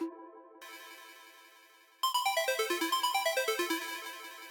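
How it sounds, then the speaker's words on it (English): A buzzy synth tone sustains, then a fuzzy, noisy square-wave lead plays a rapid descending arpeggio of short repeated notes, bright and harsh. "So it kind of looks like a little fuzzy square wave,"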